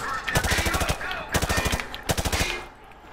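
Gunfire from the Call of Duty Modern Warfare 2 campaign remaster rattles in three fast automatic bursts, loud and close, with short gaps between them.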